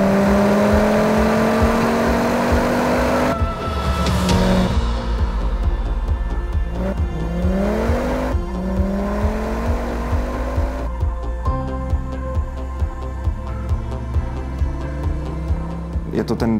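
Volvo 850 T5-R five-cylinder engine revving hard through several gear changes, rising then dropping in pitch repeatedly, loud and close throughout.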